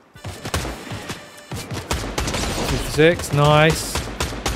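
Gunfire from a Fortnite match, rapid cracking shots scattered through the clip under a player's excited talk.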